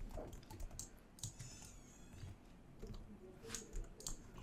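Soft, steady typing on a computer keyboard, a quick run of close key clicks with no talking.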